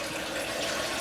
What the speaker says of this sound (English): So you pour that water out